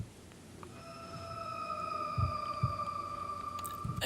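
A lone synth pad holds sustained tones that bend slightly in pitch, steady and moderately quiet with a low throbbing undertone and a few soft thumps.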